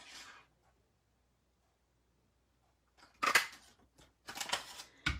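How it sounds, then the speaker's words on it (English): A paper punch cuts a cardstock sentiment, a few sharp crunching clicks in quick bursts after a long quiet stretch, close and fairly faint. "I'm going to cut that out with the same punch"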